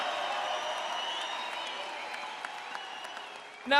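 Sustained applause from a large crowd at a Donald Trump presidential rally in Colorado, a dense steady wash of clapping with a few whistles and cheers, ending abruptly in a loud burst.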